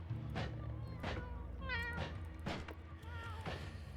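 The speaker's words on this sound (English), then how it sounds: "Whenever I hear those meows" Cat meows from a video game stream, several drawn-out, pitch-bending meows rising and falling over a steady game soundtrack, at a moderate, even level.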